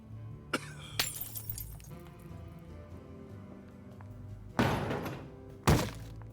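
Glass breaks in a dramatized crime scene: a sharp crash and then a second shattering burst with scattered tinkling, both close and loud against a quiet background, after a few earlier thuds.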